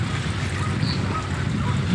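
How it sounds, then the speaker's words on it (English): Steady broadband rush of a full-flowing creek in a ditch beside a reservoir, heard close and continuous with no talk. "Still getting good flow. Got a full-on creek running."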